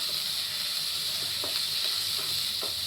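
Potatoes and chopped garlic fry in a pan with a steady, close hiss of sizzling oil, broken by a few faint clicks and small stirring movements, with no voices.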